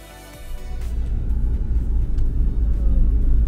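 Cars drive along a snowy Alpine mountain road in Switzerland, a low engine rumble building after a quiet start and holding steady and loud, close by.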